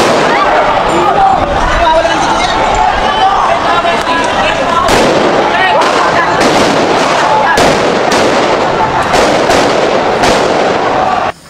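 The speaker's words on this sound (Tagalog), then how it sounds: "maririnig natin yung putok ng baril na umaalingasaw sa kalye" Gunshots ring out on the street during a rally at Mendiola, a loud, sharp series of irregular cracks echoing over a continuous crowd din with voices underneath.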